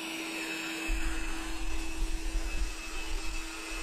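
A Tesvor S6+ robot vacuum's steady whirring motor hums close by, with a low rumbling brushing noise kicking in after a second and continuing unevenly.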